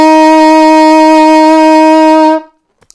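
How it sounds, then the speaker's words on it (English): A single sustained middle C played on an alto saxophone, a steady, bright, reedy tone held for about two and a half seconds before stopping cleanly, followed by faint key clicks. "That is middle C on your alto sax."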